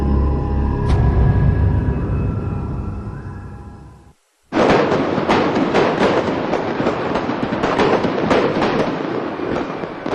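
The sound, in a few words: holiday fireworks at the Golden Temple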